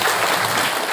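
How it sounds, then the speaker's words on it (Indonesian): Audience applause honouring a father at a parenting session in an Islamic boarding school, steady dense clapping that fills the whole second with no voices on top. "Tepuk tangan buat ayahnya."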